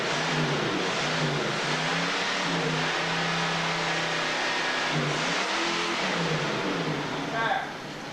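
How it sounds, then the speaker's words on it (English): A car engine idles at low RPM just after an oil change, a steady mid-pitched hum close by with slight rises and falls, ending in a brief tapering. "you want to get slow RPMs, but you want to get that lubrication"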